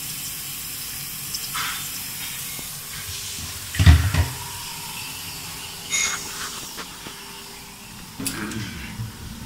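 Water drains steadily down a shower cabin drain with a soft hiss and gurgle, with a few knocks and clunks in between.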